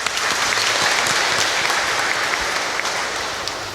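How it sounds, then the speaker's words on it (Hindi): A church congregation at Sunday Mass applauds in welcome, a loud, steady burst of clapping filling the room and tapering slightly toward the end. "कृपया ताली बजा देंगे।"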